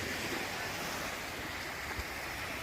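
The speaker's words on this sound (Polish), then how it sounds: "te fale" Sea waves wash onto the beach at Jesolo around sunset, a steady soft surf hiss with faint wind noise, moderately distant and alone, with one small bump near the end.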